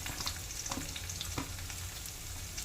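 Chopped onion and garlic frying in oil in a pan for a spicy chicken curry, a steady close sizzle with occasional scraping knocks as a spoon stirs through it.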